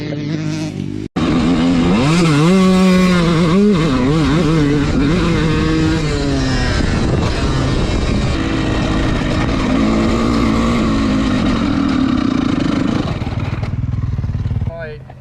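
Three dirt bikes, a 250F four-stroke, a 125 two-stroke and a 450, racing at a motocross track, engines loud and close with rising and falling revs as they accelerate, while voices shout over the noise.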